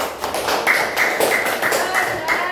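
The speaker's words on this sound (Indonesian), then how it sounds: "Tepuk tangan kelompok Matius" In a classroom, the Matius group of students claps together in a rhythmic pattern of sharp, evenly spaced beats, with voices talking over the clapping.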